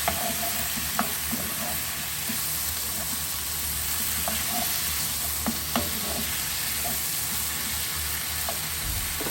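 Beans warming in a simmering Mediterranean fish stew pot, a continuous close sizzle and bubbling hiss with occasional soft clicks and stirring, no talking.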